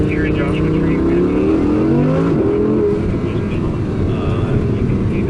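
An Audi R8 V10 Coupé engine pulls hard under full throttle on a road in Joshua Tree, its pitch sweeping upward in steady rising harmonics over about five seconds. The engine stays loud and close, with a voice talking over it.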